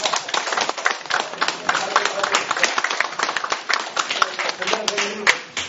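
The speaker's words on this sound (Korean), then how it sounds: "박수 칩시다." An audience at an indoor gathering applauds, a dense patter of many hands clapping steadily and fairly close for several seconds.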